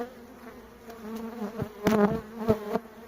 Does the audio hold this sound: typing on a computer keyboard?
no